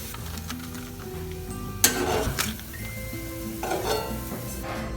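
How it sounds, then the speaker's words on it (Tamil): Dried anchovies (nethili karuvadu) fry in hot oil over low heat with a steady, close sizzle and crackle, with a few sharper bursts and scraping stirs of a pan partway through. "கருகாமல் பொரிச்சு எடுப்போம். கருகாமல் பார்த்துக்கணும் நெத்தலி கருவாடு."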